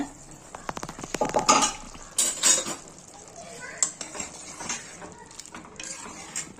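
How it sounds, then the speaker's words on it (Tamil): A pressure cooker holding mutton kurma being opened after cooking, with metallic clanks of the lid and utensils against the pot, sharp scattered clinks and scrapes close by amid quiet kitchen noise. "இப்போ இதை குக்கர் ஆஃப் பண்ணி திறக்கிறேன்"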